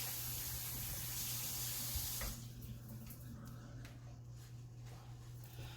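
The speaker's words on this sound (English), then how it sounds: "I'm gonna wash my hands" Water runs from a kitchen tap during handwashing, a steady soft hiss that stops after about two seconds and leaves quiet room noise with faint clatter.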